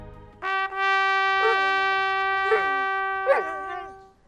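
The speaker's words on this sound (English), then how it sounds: "The dog finally remembers the girl and howls," A dog howls along to a slow trumpet melody, the long sustained brass notes running throughout while the howls rise and swoop in several times over them, close and fairly loud.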